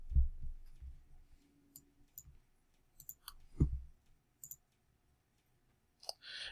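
Sharp mouse clicks on a computer, a few isolated taps spaced apart in a quiet room with low background rumble.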